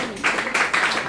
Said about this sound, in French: Chris, on applaudit pour Chris.